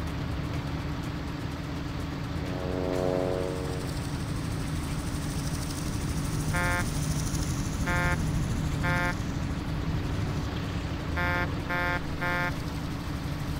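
Car horn in the action game Just Cause, honked in several bursts of short stacked beeps, two groups of taps after an earlier lower tone, loud over a steady engine drone.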